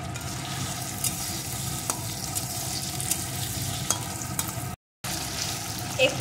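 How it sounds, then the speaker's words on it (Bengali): Cumin and ginger paste sizzles with chopped tomato in a pan, a steady frying hiss with occasional stirring scrapes and a brief gap of silence. "জিরে আদা বাটার পেস্ট, সাথে দিয়ে দেবো একটা টমেটো কুচি। এখন এগুলো একটু ভেজে নেব।"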